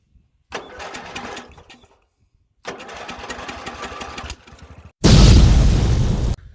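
A Briggs and Stratton engine on a Murray lawn mower, running rich, cranks in two rough sputtering bursts separated by silence, then fires into a sudden loud, harsh roar.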